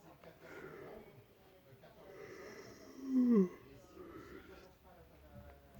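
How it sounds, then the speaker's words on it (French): A person yawning once, a brief drawn-out groaning breath rising over soft background talk-like murmur. "j'en baille encore une fois"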